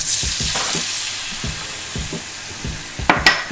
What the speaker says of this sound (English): I'm just going to deglaze the pan with half a cup of your choice of